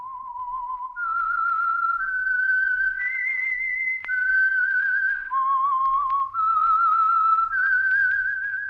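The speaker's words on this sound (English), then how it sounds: "That whistle is your signal for the Signal Oil Program, The Whistler." A lone whistler carries the slow, eerie theme melody of The Whistler radio program, clear, sustained notes stepping up and down against a quiet background.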